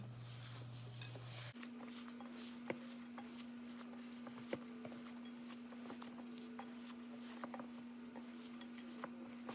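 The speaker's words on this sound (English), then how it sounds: "So I'm going to go ahead and mix this in." Ingredients for a keto Chicago-style deep dish pizza are mixed by hand, giving quiet scattered clinks and scrapes of a utensil against a bowl over a steady low hum.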